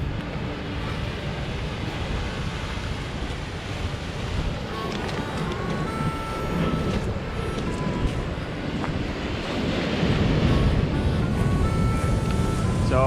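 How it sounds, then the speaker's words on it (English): Big ocean waves break on a beach in Chile near la Mano del Desierto, a continuous roaring wash mixed with wind buffeting the microphone, swelling louder toward the end, with a voice speaking briefly under it. "Big waves."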